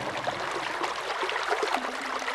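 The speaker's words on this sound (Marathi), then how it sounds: "अगदी आजही तब्बल 4 फूट उंचीचा हा खळाळता प्रवाह" A strong stream of water, about four feet deep, rushes steadily through a 250-year-old stone underground aqueduct in Pune, a constant close, full-bodied gurgling flow with no voices.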